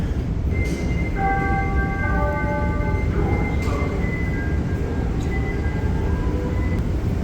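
A Chicago subway train on the Red Line rumbles loudly and continuously, with sustained tonal whines and horn-like pitches that rise and fade over the roar, with no talking.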